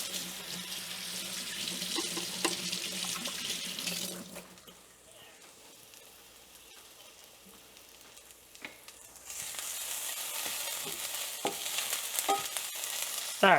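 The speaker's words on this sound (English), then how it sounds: "Let me just rinse my hands off again." A kitchen sink tap runs steadily as hands are rinsed, the rushing water close and continuous, stopping briefly in the middle before flowing again, with food sizzling faintly in a pan nearby.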